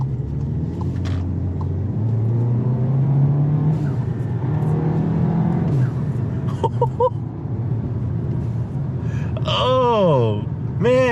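A VW Tiguan fitted with a diverter valve spacer accelerates hard through a turn, its engine a steady loud rumble throughout, with a rising whine near the end.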